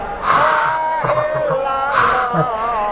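A voice imitates loud snoring with harsh, nasal groaning and rasping breaths, vocalized rather than a real sleeper, in repeated bursts over about three seconds.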